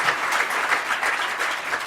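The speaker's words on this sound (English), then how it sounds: "Another great round of applause." Audience at a postdoctoral fellows' talk session applauds after a presentation, a brief, full burst of many hands clapping at once, close and steady.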